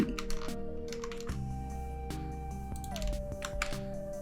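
Computer keyboard keys click in a quick series of light taps during a Premiere Pro editing session, soft and close, over steady background music tones.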